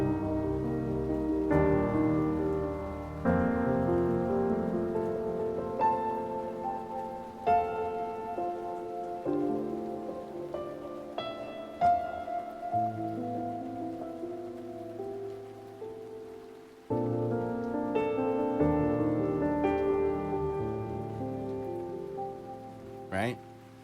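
A synthesized rain texture from a Unify synth patch with its latch engaged hisses steadily beneath sustained, chiming melodic synth notes and occasional sharp plucked attacks, moderately loud, with no speech.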